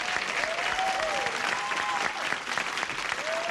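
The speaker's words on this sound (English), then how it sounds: "Applause, applause, applause." A studio audience on a 1978 television game show breaks into dense, sustained applause, loud and continuous, with a voice speaking briefly over the clapping.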